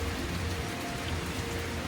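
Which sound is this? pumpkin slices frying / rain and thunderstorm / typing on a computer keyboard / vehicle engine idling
rain and thunderstorm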